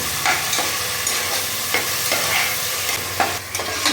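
Ground garlic paste frying for Tamil tomato rice crackles steadily while a spoon stirs it, with repeated scraping strokes every second or so, close and moderately loud, no voices.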